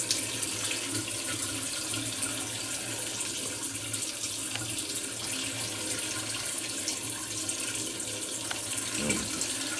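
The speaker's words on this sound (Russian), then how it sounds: "идет теперь душ." Water runs steadily from a universal shower attachment fitted to a faucet, a constant hissing spray that stays even and fairly quiet throughout, with no talk.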